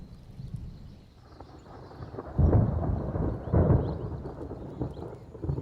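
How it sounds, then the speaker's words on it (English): Thunder from an approaching summer storm rumbles low across the open bush, swelling in two heavy rolls amid steady background noise, with no voices. "The approach of the first summer storms charges the air."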